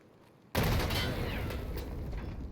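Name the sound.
grenade explosion in Escape From Tarkov video game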